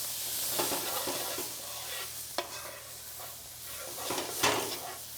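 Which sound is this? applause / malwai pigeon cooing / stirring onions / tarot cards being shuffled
stirring onions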